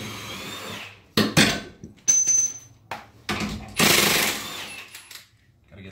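An impact-type power tool works on bolts of a car's front suspension, firing several short loud rattling bursts separated by pauses, with a brief high whine in between.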